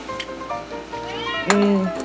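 A cat meows several times in a home kitchen during baking, short rising and falling cries close by, with a longer meow near the end over faint background noise.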